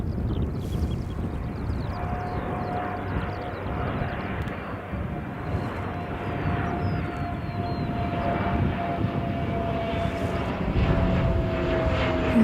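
A Dash 8 turboprop airliner drones steadily with a sustained engine tone and a faint siren-like whine, moderately close and continuous throughout with no talking.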